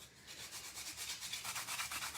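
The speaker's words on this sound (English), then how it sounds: "you're just gonna very lightly sand over the top" Fine grit sandpaper lightly rubs across the top of a wood slice in quick, even back-and-forth strokes, a soft close scratching rhythm heard alone.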